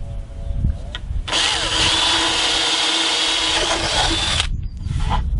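A power drill bores a through-hole into a DIY loudspeaker cabinet, whining loudly and steadily for about three seconds, with quieter handling noise before and after.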